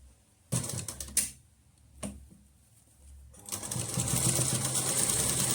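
A sewing machine stitching a kurti collar neck, short bursts of fast mechanical rattling separated by quiet pauses, then a longer steady run of stitching, close and clear.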